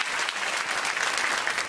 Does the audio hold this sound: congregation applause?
yes